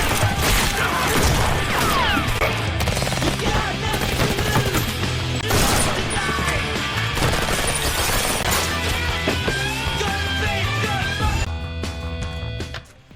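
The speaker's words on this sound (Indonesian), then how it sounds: "Adu tembak brutal pun pecah." Rapid bursts of gunfire crackle in a film shootout amid crashes and clattering impacts, loud and dense throughout, with a layered soundtrack underneath.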